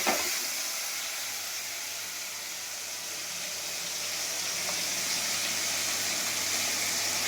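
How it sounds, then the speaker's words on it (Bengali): Hilsa fish pieces fry in hot oil, giving a steady, fairly loud hiss and sizzle that runs without a break, with no voices. "এবার বাকি মাছগুলো দিয়ে দেবো,"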